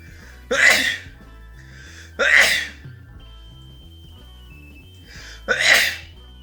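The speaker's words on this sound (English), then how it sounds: "I'm gonna sneeze." Three sharp sneezes spaced a couple of seconds apart, close and fairly loud, over a quiet background hum.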